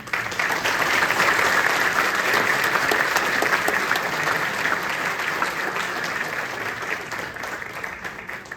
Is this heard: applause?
yes